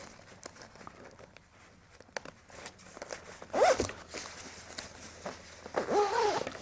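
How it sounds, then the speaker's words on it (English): A liner zip being undone on a Richa motorcycle jacket: light fabric rustles and ticks, then a quick close zipping rasp midway and another longer zipping pull near the end, with no speech. "what I can do now is unzip the destination layer from the outer jacket there"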